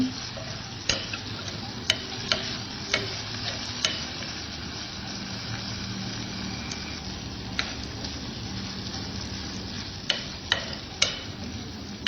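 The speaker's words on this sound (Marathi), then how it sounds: "आपण छान परतून घेतो" Snake gourd bhaji (padwal) stir-fried in a pan, a steady close sizzle broken by sharp scraping clicks of a spatula against the pan at irregular intervals, no voices.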